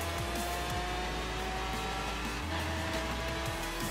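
A car in the racing video game Forza Horizon 3 drives with a continuous engine drone and shifting pitch, moderately loud and steady, with no talk over it.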